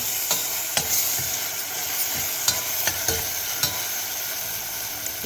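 Puffed rice (murmura) is stirred in a pan over a slow flame: a soft steady sizzle broken by scattered scraping clicks from the spoon.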